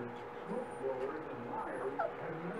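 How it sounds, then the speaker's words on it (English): A dachshund puppy gives high whimpering yips and small barks, mixed with soft background talk in a room with other puppies; moderately faint and continuous. "He's pretty noisy, too, but Mommy's been telling him no bark."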